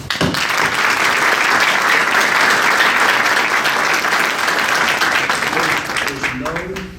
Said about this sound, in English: Let's give a round of applause to the family.